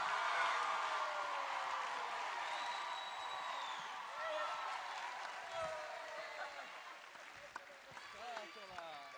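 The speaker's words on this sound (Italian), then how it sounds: "Il gioco è che dovete continuare ad applaudire finché non finiscono le scatole" Audience applause at a spring choir concert, a steady dense clatter of many hands held throughout at moderate distance, with scattered whoops and a few voices rising over the crowd.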